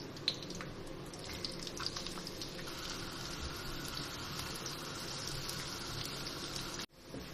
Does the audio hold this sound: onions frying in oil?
yes